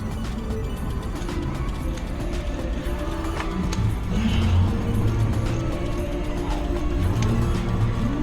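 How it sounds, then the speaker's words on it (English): A ratchet wrench tightens a bolt on an aluminum housing, making steady mechanical clicking and ratcheting against a continuous background of workshop noise. "Now we'll take our ratchet again, flip it to the on position."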